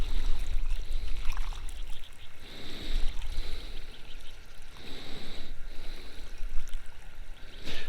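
Water drains out of a rain barrel chicken waterer, a continuous splashing, trickling pour that surges and eases in waves, close and fairly loud throughout with no talking.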